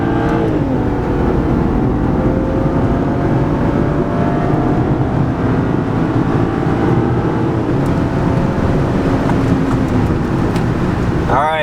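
A stock BMW 335i launching at a quarter-mile drag strip, its engine droning loudly with a rising, wavering note as the tires spin, sustained and close; a voice talks over it.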